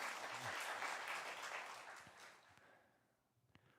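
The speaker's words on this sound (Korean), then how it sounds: "여러분 박수 한번 하겠습니다" A church chapel audience at a Korean university worship service claps together, a dense burst of applause that swells briefly then fades away over a few seconds, fairly distant and soft.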